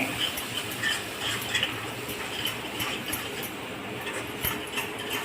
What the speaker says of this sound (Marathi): चवीपुरतं मीठ घालणे. आणि छान सगळं एकत्र परतून घेणे.